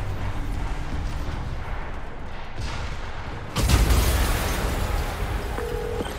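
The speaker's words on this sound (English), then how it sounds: "an explosion just..." An explosion in Marvel's Spider-Man on PC bursts in midway as a sudden deep boom, then a loud rumbling roar that hangs on over a steady background bed.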